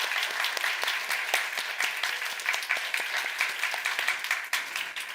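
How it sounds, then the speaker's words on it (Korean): A church congregation gives a sustained round of applause, many hands clapping together in a steady, fairly bright patter that continues evenly throughout. "감사의 박수를 한번 올려드리면 좋겠는데요."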